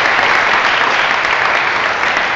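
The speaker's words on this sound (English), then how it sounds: "So a big round of applause" A large audience applauds event sponsors at a fundraiser, loud dense clapping filling the whole stretch without a break and with no voices over it.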